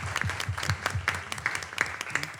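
A short burst of clapping from a small radio-show audience greeting a guest, with distinct individual claps audible and fairly close, a few hands rather than a large crowd.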